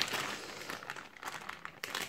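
Packaging of an Android TV box crinkles and rustles up close in short, uneven bursts during unboxing, with no speech.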